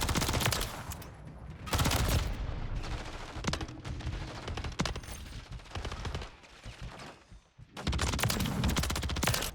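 Rapid gunfire from a shooter video game during an aim warm-up, using an assault rifle, with dense bursts of automatic shots separated by brief pauses, fairly faint and continuous.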